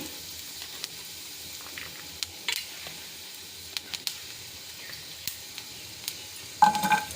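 Cumin seeds sizzle faintly in hot oil in a pan for a brinjal and tomato chutney: a soft, steady frying hiss with scattered small pops and crackles and no talking.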